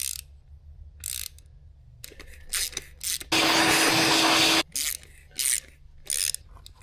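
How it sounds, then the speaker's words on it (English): A 3/8 tap cutting threads in a drilled hole during Jeep CJ-7 engine work, heard as close, intermittent grinding and ratcheting turns with a longer steady rasping stretch in the middle and brief pauses between strokes. "Getting this tap started nice and straight."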